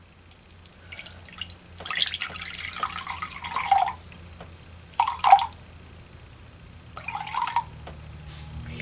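Water trickles and splashes into a container in several short bursts, with quiet pauses between pours.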